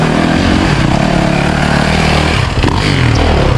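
A gas dirt bike engine roars loud and close without a break, revving hard with a rough, buzzing tone and a brief dip near the end.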